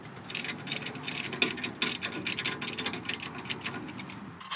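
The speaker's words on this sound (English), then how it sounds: "Tighten this other nut down, and that'll lock it in place." A ratchet clicks steadily as a nut is tightened while a Belltech front and rear lowering kit and sway bar set go onto a C3500 truck, with rapid close-up pawl clicks in several bursts and no talk.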